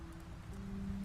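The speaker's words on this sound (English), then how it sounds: "It's raining." Steady rainfall in the video game The Wolf Among Us, a soft continuous hiss with a faint low hum underneath, holding at an even level throughout.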